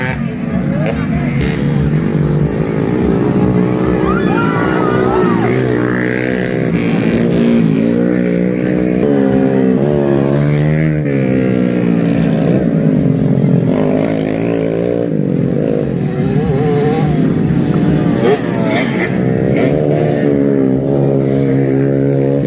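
Small 110–125 cc motorcycles race laps around a grain-taxi racing arena in Barru. Engines drone loudly and continuously, with rising and falling revs as the bikes accelerate and pass, and crowd noise mixed in.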